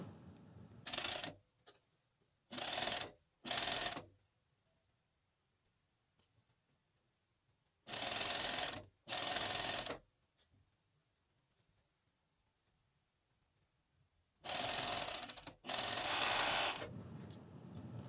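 A coverstitch machine sews a neckline with a double fold binder in short bursts of rapid stitching, separated by quiet pauses, close and fairly loud.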